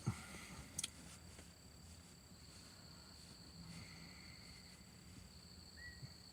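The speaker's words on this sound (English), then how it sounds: "Not a damn peep out here, just the crickets." Crickets chirp steadily in a quiet night outdoors, a thin high trill with a couple of faint clicks and no voices.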